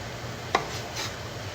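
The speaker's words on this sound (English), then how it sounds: "I'm gonna just slice some tomatoes real quick" A knife slices fresh tomatoes on a board in a home kitchen: one crisp, sharp cut, then a softer second stroke, close and alone against quiet room hum.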